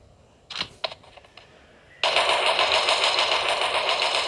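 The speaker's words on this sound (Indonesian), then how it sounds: "ditembak pakai auto rifle" Rapid bursts of auto rifle fire in a video game, a couple of short shots followed by a loud, sustained stream of gunfire that runs to the end.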